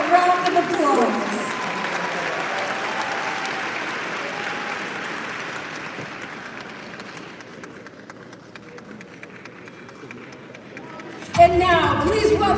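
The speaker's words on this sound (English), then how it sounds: "Please give them all a round of applause." Audience applause at a mayoral inauguration in Los Angeles, steady and broad for about eleven seconds and slowly thinning, with a fresh burst of clapping and voices near the end.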